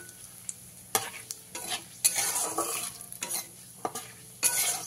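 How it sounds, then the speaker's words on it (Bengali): Whole fennel, cumin, bay leaves, dried chilies and cardamom fry in hot oil in a pan, giving a steady sizzle broken by several sharp stirring scrapes and a few louder bursts, close and clear with no talking. "দিয়ে গোটা মশলাগুলোকে একটু ভাজা ভাজা করে নিতে হবে।"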